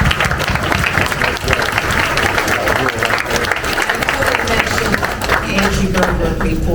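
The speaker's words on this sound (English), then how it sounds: "I'd like to give them a round of applause for all they do" Sustained, dense round of applause from an audience at a high school alumni reunion, loud and steady for several seconds, with scattered voices under the clapping.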